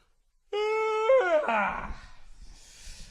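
A single drawn-out, high whimpering whine from a dog, close by, bending downward and fading into soft rustling.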